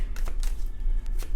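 Quick riffling bursts of cards being shuffled, a few short flutters in a row, close and clear with no talking.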